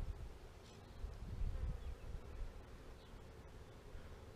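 A low, steady buzzing of honey bees from a package hive fills the clip, a continuous droning hum that swells slightly in the middle, with no voices.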